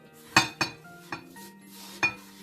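Metal spoon clinking and scraping in a pot while coconut and flour are mixed with water, with four or five sharp knocks at irregular intervals over a low steady hum, close and fairly loud, no talking.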